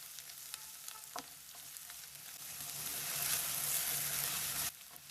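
Garlic and ginger fry in a pan for gumbo-style bendekai gojju, a steady close sizzle that swells louder midway, with a few faint stirring clinks before it cuts down near the end.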